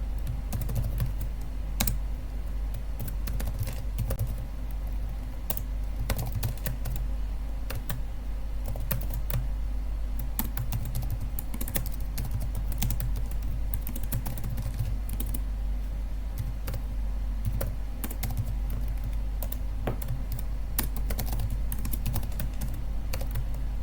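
Continuous rapid clatter of a computer keyboard as code is typed, dense uneven keystrokes over a steady low hum for the whole stretch, no talking.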